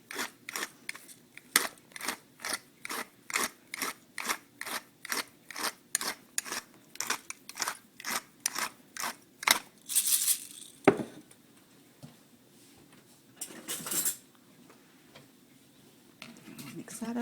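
A spoon works through chicken salad seasoned with salt and pepper in a bowl, making a steady run of about twenty evenly spaced scraping strokes before breaking into a few looser, louder rustling stirs.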